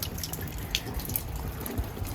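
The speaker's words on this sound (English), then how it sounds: "In here you can actually see water flowing" Water trickles through a drain pipe, with a soft continuous flow and a few faint drips and splashes rising over it; quiet and close.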